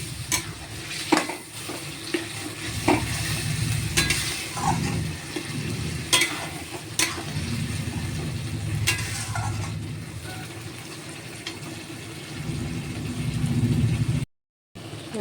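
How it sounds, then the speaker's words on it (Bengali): Spice paste and potatoes frying in a pan with steady sizzling, broken by repeated scraping strokes of a stirring spoon, close and continuous. "এবার এগুলো এই আলুটার মধ্যে দিয়ে দেবো, একটু মশলাটা কষিয়ে নেব"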